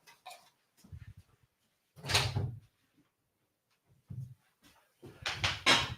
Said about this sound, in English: I'm just going to let Ninja the cat out of the door because he's going to scratch through it in a minute.